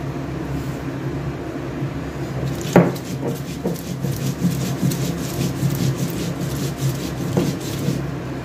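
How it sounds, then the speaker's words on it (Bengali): Poppy seeds being ground by hand on a grinding stone: a steady, rough scraping rub that continues throughout, with a sharp knock near the start and a few softer clacks, and no talking. "ওই পোস্তটা বেটে নিয়ে দিয়ে দিই"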